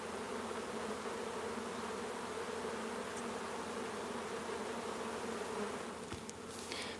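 Honey bees hum steadily around a hive, a dense, continuous buzz of many insects heard close up, with a brief faint knock near the end.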